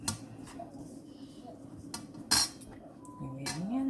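Parsley and mint tabbouleh salad being tossed in a bowl, with scattered close clinks and scrapes of a utensil against the dish, a few louder knocks, and quiet background sound.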